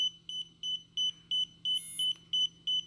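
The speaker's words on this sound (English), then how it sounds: "You'll hear an audible tone from your controller" A DJI Spark remote controller gives its linking tone, a series of about nine short, evenly spaced high beeps, close and clear over a faint steady hum.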